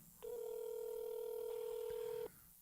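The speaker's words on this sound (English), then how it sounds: "There's nobody answering the phone." A single steady telephone tone sounds for about two seconds on a call that goes unanswered, clear and even against a faint background.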